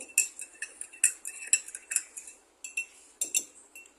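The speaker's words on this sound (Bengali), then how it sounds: "আমি আটকে দিচ্ছি আমার বয়ামটা। একটু ভালো করে মিক্স করে নিচ্ছি।" Bright, clinking taps and rattles come in quick bursts, close and fairly quiet, as a closed jar holding mango and lemon juice is shaken, with short pauses between shakes.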